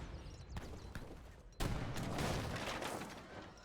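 Battle in the strategy game Age of Empires III, with a faint crackle of musket gunfire followed by a sudden loud artillery boom and a long rumbling volley of shots.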